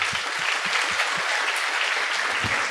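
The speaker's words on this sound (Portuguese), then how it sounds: "Vamos aplaudir Jesus bem forte" A church congregation claps loudly and continuously, with some low thumps mixed into the steady applause.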